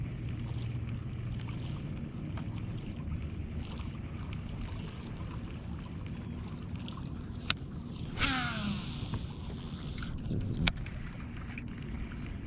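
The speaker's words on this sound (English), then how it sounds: "A lot of boats out there on the grass flat" Distant bass-fishing boat motors rumble low across the open water of a grass flat on the Potomac River, mixed with wind buffeting the microphone and a few brief clicks.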